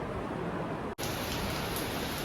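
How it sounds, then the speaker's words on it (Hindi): Steady, dense rain pours down in a hot summer downpour, a continuous close hiss that drops out for an instant and then resumes just as heavy. "अब होने लगी है बारिश,"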